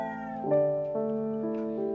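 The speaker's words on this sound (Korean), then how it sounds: "새우를 손질하니 고양이는 애가 탑니다." A cat meows in a long, drawn-out, insistent cry that rises and repeats in close succession while shrimp is being cleaned in a kitchen.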